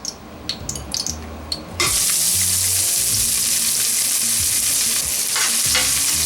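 One medium chopped onion hits half a cup of hot oil in a pan on high heat, bursting into a loud, steady sizzle after a few soft clinks and continuing unbroken to the end.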